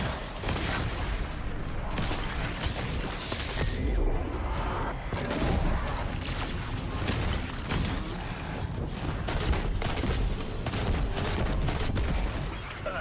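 Dense, sustained video-game gunfire fills the stretch, overlapping bursts and crashes with booming impacts throughout, loud and continuous during a charity stream game session.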